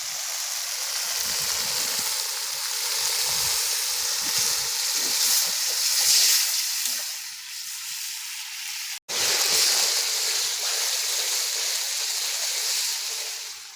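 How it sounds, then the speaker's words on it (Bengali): Water hits fried spices for chicken kosha in a hot pan, sending up a loud, continuous sizzling hiss that eases briefly midway, with a sharp click before the hiss surges again. "মশলা ভাজা হয়ে গেছে, এবার জল দিয়ে দেবো।"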